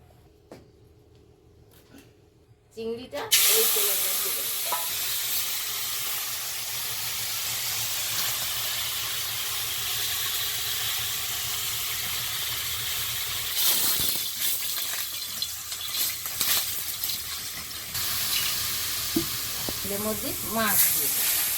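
Fish frying in oil in a kadai during a Bengali home cooking session, a steady loud sizzle and hiss that kicks in after a quiet start and runs continuously, with brief faint voices near the end.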